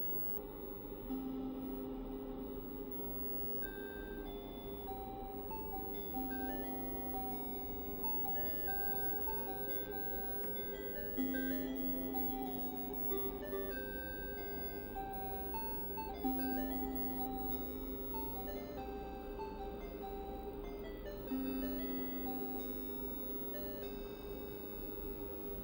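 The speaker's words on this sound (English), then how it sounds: "let's check out Space Quest 3 on the Tandy 1000 so you can hear the difference" Space Quest 3 music plays through Tandy 3-voice sound on a Tandy 1000 computer's single small speaker. Bright, beepy square-wave melody lines repeat over a steady low hum at a modest, even level, with no voices.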